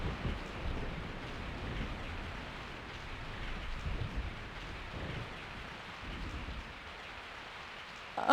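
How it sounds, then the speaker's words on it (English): Falling rain in the Resident Evil 3 video game, a steady hiss of heavy rainfall with low rumbling thunder underneath, continuous and enveloping with no talk. "I woke up to the sound of falling rain."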